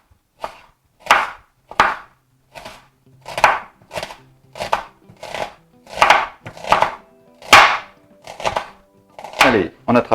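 A knife cutting vegetables into thin strips on a wooden board, a steady series of about fifteen crisp, close chopping strokes spread evenly throughout with brief silences between them.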